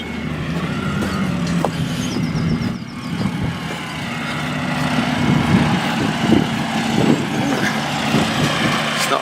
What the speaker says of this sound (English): You get a close up like this of a tractor at work